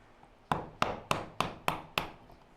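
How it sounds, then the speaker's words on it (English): A hand plane shaves a wooden bench hook in six quick, evenly spaced strokes, each a crisp close swish that fades before the next. "we can just start planing it to the lines"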